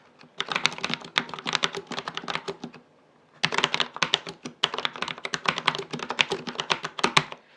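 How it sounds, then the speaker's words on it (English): Rapid clicky keystrokes on a Corsair K70 Mark II low profile mechanical keyboard clatter in two bursts separated by a short pause, crisp and close, with no talking. "This is a test of the Corsair K70 Mark II low profile."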